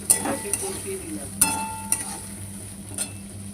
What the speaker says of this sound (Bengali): এর মধ্যে পেঁপেটা দিয়ে দিলাম, পেঁপেটা ভাজিনি, পেঁপেটা ভাজবো না, এটাকে কষিয়ে দিলাম।